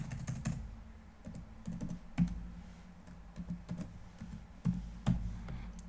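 Computer keyboard keys tapped to enter a password while configuring remote access VPN on a Cisco ASA; sparse, irregular clicks and taps with short pauses between bursts, close by.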